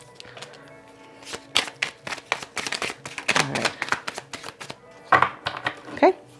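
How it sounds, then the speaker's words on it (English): Tarot cards being shuffled up close, a fluttering run of papery riffles and slaps in uneven bursts, with someone speaking briefly over the shuffling. "Do I need one more shuffle, Spirit? One more shuffle."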